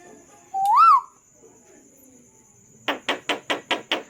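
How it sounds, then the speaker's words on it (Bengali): A pet bird gives a loud, close rising whistle, then a rapid run of six or seven sharp, evenly spaced calls in a cuckoo-like pattern, with no talking. "একবার কোকিল ডাকো"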